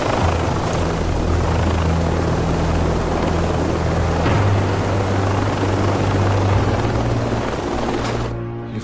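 A helicopter's rotor and engine drone loudly and steadily throughout, a close continuous roar that cuts off abruptly at the very end.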